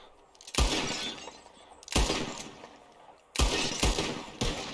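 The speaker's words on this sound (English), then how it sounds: "Whoever shoots more of these bottles wins" Gunshots blast bottles in Red Dead Redemption 2, coming in three clusters of loud close cracks, each joined by shattering glass and separated by short lulls.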